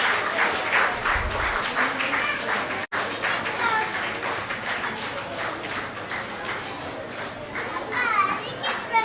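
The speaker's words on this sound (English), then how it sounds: "Give her a big round of applause." Brisk clapping from a crowd at a UCMAS Kerala state-level competition award and graduation ceremony runs throughout, with children's voices and chatter mixed in and a brief dropout partway.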